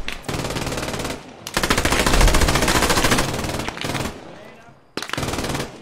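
Rapid automatic gunfire in a house-assault video game, loud dense bursts of machine-gun fire with short pauses between, close and continuous through most of the stretch.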